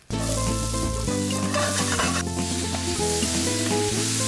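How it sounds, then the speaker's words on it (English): Vegetables sizzle and fry loudly in a hot pan on a Thermador 48-inch Pro Grand range as broth goes in to deglaze, a steady close hiss with some stirring throughout and no talking. "we're gonna throw in our veggies and deglaze with some broth, and that's gonna make the basis of our sauce"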